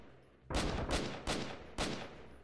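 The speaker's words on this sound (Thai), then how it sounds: "ใครโผล่มาหลังต้นไม้นั้นน่ะผมยิงหมดอ่ะจังหวะเนี้ย" Four loud, close gunshots from the shooter game Freeman: Guerrilla Warfare, fired at an even pace of about one every half second, each with a sharp crack and a decaying tail.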